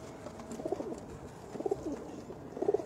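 Rampuri pigeons coo softly in three short rounds of throaty burbling, fairly close against a faint background hum.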